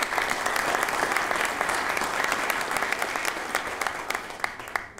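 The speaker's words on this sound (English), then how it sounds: "Let's also give those 2 organizations a round of applause." Audience applause at a peace convention in Paraguay, a steady, dense round of clapping from a large crowd with sharper individual claps standing out, sustained and fairly loud, without speech.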